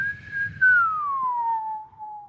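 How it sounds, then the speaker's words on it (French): A single sustained whistle tone held for about two seconds, steady at first and then gliding slowly downward in pitch, loud and close, with faint low background rumble. "On a synchronisé le sifflet."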